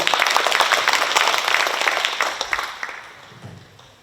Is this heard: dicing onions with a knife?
no